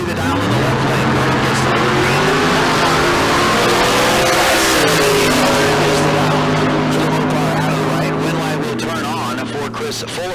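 A 1992 Chevy Camaro roars down the Tucson Dragway strip in a bracket drag race, its loud engine note rising and shifting in pitch over a dense, steady roar of racing noise.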